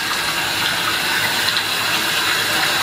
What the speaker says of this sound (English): Get some water in my beard.